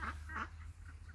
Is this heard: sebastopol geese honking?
yes